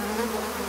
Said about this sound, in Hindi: ये मच्छर।